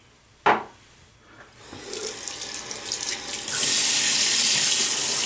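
Tap water gushes onto a bar of handmade soap, starting after a sharp knock and swelling into a steady, close hiss of running water that fills the last seconds.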